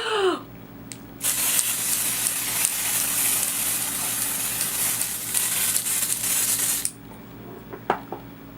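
A can of Dior AirFlash spray foundation releases one long, loud, steady hiss lasting several seconds at close range, with quieter handling sounds before and after it.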